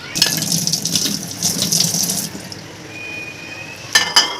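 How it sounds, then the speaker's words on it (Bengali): Tap water runs into a glass bowl for about two seconds at a steady splashing stream, then stops; a soft clink of the glass follows near the end, with no talk. "সো এখন এই যে জল ভরে নিলাম কাচের বাটিতে"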